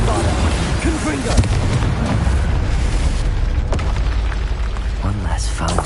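Bombarda and Confringo blast spells in the game Hogwarts Legacy, a run of booming magical explosions and crackling bursts tangled with combat effects, a voice speaking over them.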